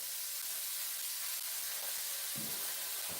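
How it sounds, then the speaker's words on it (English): Food sizzles and hisses in a hot pan, a steady close frying crackle with a couple of soft knocks near the end. "But there's that sizzle. There it is."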